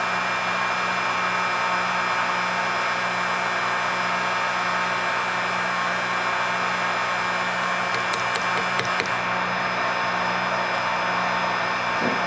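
Heat gun blowing hot air over a freshly painted fishing lure jig in a Fire Tiger paint job, a steady close whooshing roar with a hum underneath and a few light taps near the end.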